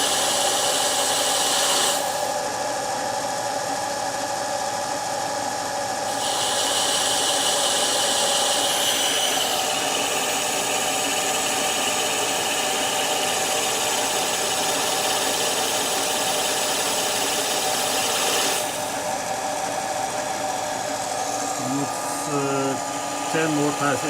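A Smarty AT-300 lathe taking a roughing pass on a cast iron backplate gives a steady, loud machining whir and grind with a rasping cutting texture that shifts partway through, with a voice speaking over it.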